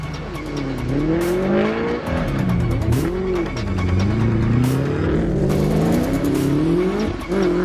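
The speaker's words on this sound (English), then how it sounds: "a full field comprising of all the various classes of SA cross-country racing lined up to take the starters' orders" A full field of South African cross-country rally race cars of various classes starting off, engines revving and rising in pitch through repeated accelerations, loud and close, with sharp mechanical clicks and pops between gear changes.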